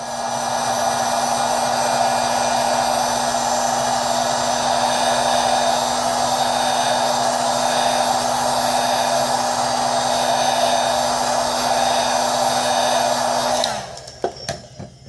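A heat gun blows with a steady, loud, close whoosh and hum for about fourteen seconds while it heats the glass of a Samsung S3 phone, then cuts out and spins down, leaving a few small clicks.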